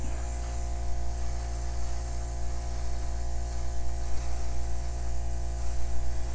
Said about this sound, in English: I do a lot of work with the airbrush on my flip and drags to feather out edges